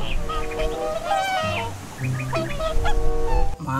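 A goose honks in a series of nasal calls, close and fairly clear, in a toy-themed setting.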